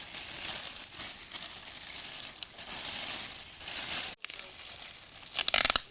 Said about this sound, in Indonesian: Dimasukkan ke dalam plastik.